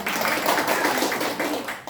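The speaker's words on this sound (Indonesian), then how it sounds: "Tepuk tangan dulu, Bu." Brief applause from women seated in a community meeting on stunting, a dense wash of hand claps at moderate volume lasting under two seconds with no talking over it.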